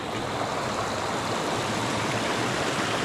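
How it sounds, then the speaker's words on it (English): A small trail stream near Harmon Hill, Vermont, gives a steady, close rushing and babbling wash of water with no pauses, heard on its own. "nice little stream here"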